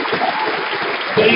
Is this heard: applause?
yes